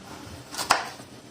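A knife cuts through the center of a vegetable piece during salad preparation, giving a single crisp chop against a board, close and moderately loud, with quiet kitchen ambience before and after.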